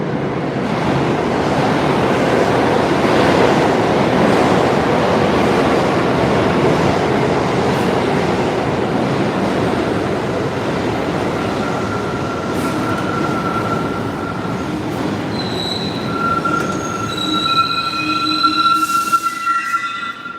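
A New York City 1 train rumbles loudly through the station, a continuous roar of wheels and carriages that turns into high, sustained wheel squeals toward the end.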